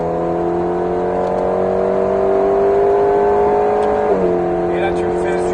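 An Alpine A110S on the Alès race circuit drones steadily under acceleration with a rising engine tone, then the pitch drops as the throttle lifts and comes back, heard from inside the car under a voice talking.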